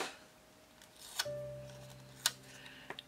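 Scissors snipping paper for a planner decoration: a couple of crisp cuts about a second apart, close and quiet, followed by small clicks.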